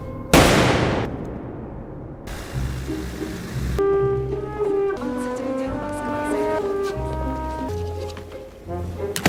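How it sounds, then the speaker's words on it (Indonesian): A gunshot in a film scene where a man is shot dead, a single sharp loud blast near the start with a decaying tail, followed by dramatic orchestral film music. "Mayor Popov ditembak mati di depan mereka."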